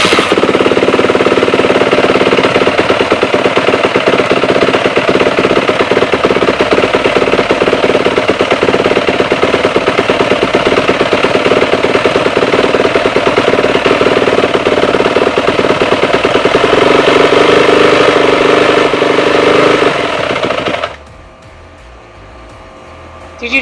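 A 450F dirt bike engine runs loud and steady with the choke out, a dense rapid hammering roar sustained for about twenty seconds before cutting off abruptly, leaving faint background noise.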